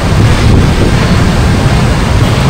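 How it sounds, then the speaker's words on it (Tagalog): Strong wind buffets the microphone outdoors beside Manila City Hall, a loud, steady roar of gusts with no talk over it. "Lakas ng hangin guys."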